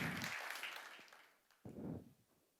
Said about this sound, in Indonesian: Oh, kita berikan tepuk tangan yang meriah.